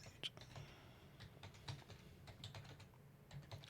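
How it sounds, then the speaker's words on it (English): Typing on a computer keyboard, a string of quick, fairly faint key clicks in an irregular rhythm over low background hum. "So I'm going to type that in here right now."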